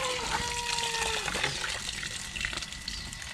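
Water is poured onto rice bran to wet it for mixing in a backyard garden, a steady close trickle and splash with a faint whistling tone over it, no talking.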